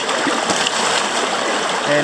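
Water splashing and rushing in a creek during gemstone prospecting in north-east Tasmania, a steady close wash of flowing water with a brief splash, heard alone.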